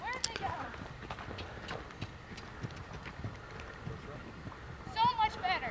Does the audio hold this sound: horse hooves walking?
yes